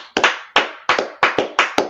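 About nine sharp hand claps in an uneven, loose rhythm, close and fairly loud, with no talking.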